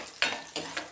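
Onions, dried red chilies and curry leaves fry in a pan after mustard seeds pop, with two or three close, sharp stirring scrapes over a bright sizzle.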